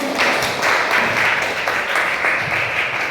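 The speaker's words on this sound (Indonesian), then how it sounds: "Tepuk tangan." Audience applause after a presentation at a teaching-practice session, steady dense clapping held for about three seconds with no talk over it.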